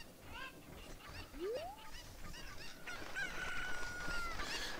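Cuckoos, the chickens of Ocarina of Time, let out repeated honking, goose-like squawks in quick bursts over game background noise, alongside a rising electronic sweep and a sustained tone.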